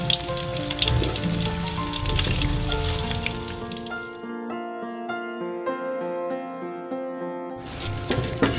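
Corn fritters (bakwan jagung) sizzle and crackle in hot oil, loudest at first; steady tonal music runs underneath and takes over midway before the frying hiss returns near the end.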